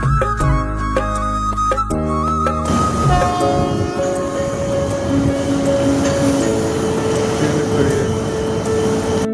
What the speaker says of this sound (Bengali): গাইস, আপনারা দেখতে পাচ্ছেন একটা ট্রেন আসছে।